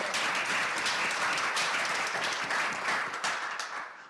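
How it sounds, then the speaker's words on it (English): An audience at a symposium applauds its speakers and panelists with a dense, sustained round of clapping that holds steady and then begins to taper off near the end. "let's give them a round of applause"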